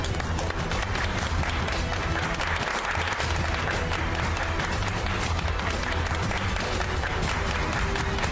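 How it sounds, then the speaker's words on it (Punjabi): Applause from a crowd gives a dense, steady wash of clapping that stays at an even level throughout and is fairly soft, with no voices standing out. "ਤਾੜੀਆਂ।"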